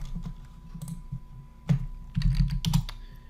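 Clicky keystrokes on a computer keyboard, a few scattered taps followed by a quicker burst of typing, close and fairly quiet.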